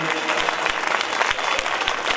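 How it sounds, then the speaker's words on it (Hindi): A crowd at a Bhagwat katha religious gathering applauds with dense, brisk clapping, a steady patter of many hands throughout the short stretch. "इनके लिए एक जोरदार तालियां आप बजा देंगे"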